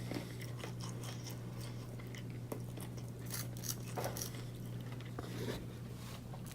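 Crispy air fryer chicken is bitten and chewed up close, a series of crunchy bites and crackles over a steady low hum, with no talking.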